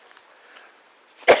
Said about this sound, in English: the coughing is not COVID, it's allergies